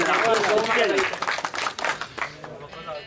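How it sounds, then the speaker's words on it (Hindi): Audience applause at a mushaira poetry recital in Wazirabad, a broad wash of clapping with a voice running over it at first, then tapering off. "खुर्रम भाई के लिए एक बार स्पेशल तालियां बजाएं"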